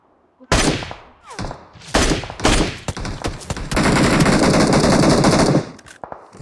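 Loud, close automatic gunfire in the mobile battle royale game BGMI, several sharp bursts followed by a sustained rapid volley of shots.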